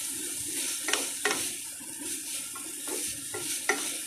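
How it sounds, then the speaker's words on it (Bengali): Spatula stirring capsicum and onion frying in a pan for homemade chilli chicken, cooked in little oil: a steady sizzle with several sharp scrapes and clacks at irregular intervals, close by. "এবার এটা নেড়ে নেবো একটু।"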